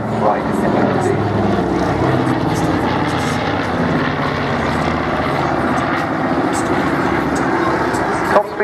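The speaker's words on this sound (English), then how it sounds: "radial engines, very distinctive sound there, and of course they're incredibly reliable radial engines, a great family of Wright engines." A B-25 Mitchell bomber with Wright radial engines flies at the Southport airshow, giving a loud, steady, rumbling drone that holds without a break for the whole stretch.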